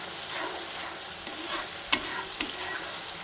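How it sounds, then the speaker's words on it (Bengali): Spice paste masala frying on a gas stove, a soft, even sizzle with a couple of sharp spoon scrapes against the pan as it is stirred. "দেখেন মশলাটা কষানো সুন্দরভাবে হয়ে"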